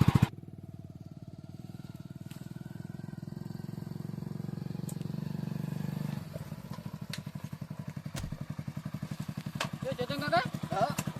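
A motorcycle engine runs steadily at close range, a low drone that shifts midway into a rhythmic chugging, with people talking over it.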